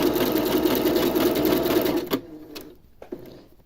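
A sewing machine stitches the seam of a zero-waste kids sleeper, a steady, close mechanical whir running for about two seconds before stopping, followed by a few faint handling clicks.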